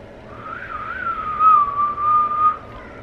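A single person whistles a wavering, sustained tune for about three seconds, fairly clear over a faint background hiss.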